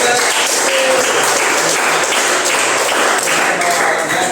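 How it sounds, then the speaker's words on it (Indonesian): Dense, steady applause from a crowd, many hands clapping together without pause for the full few seconds. "beri tepukan lagi"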